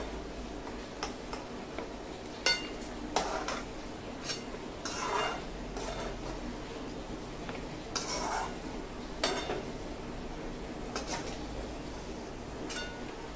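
Fried coconut being scooped from a pan into a dish of fried onions: repeated metallic scrapes and clinks of a spoon against cookware, with steady background hiss.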